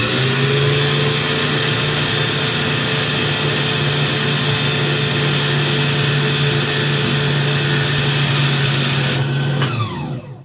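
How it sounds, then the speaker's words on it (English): Nelco N15 sewing machine winding a bobbin, a steady high-pitched motor whir running continuously for about ten seconds, close and alone, before stopping abruptly when the bobbin fills. "Once the sewing motion has been disengaged, you're going to press your pedal and fill your bobbin"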